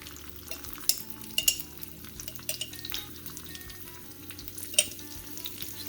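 Poblano peppers sauté in a pan with a low, steady frying sizzle, broken by several sharp clinks and scrapes of a utensil against the pan, close and without talking.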